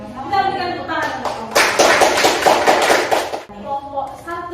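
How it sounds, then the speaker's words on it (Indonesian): Classroom applause during a microteaching session, a short burst of many hands clapping together between stretches of a woman's speech. "Kita berikan tepuk tangan untuk"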